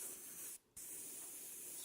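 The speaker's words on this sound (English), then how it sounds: "Spray a little bit of air and paint" Airbrush spraying candy green paint onto a motorcycle helmet graphic: a steady close hiss of air and paint, cut off briefly for a split second, then resuming just as steady, with no talking.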